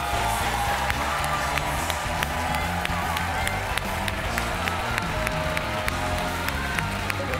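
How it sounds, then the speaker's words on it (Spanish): Studio audience applauding and cheering after a singing battle on a televised talent show, continuous loud clapping with crowd noise and rhythmic beats, voices mixed in. "Fuerte el aplauso de la ovación para ambos."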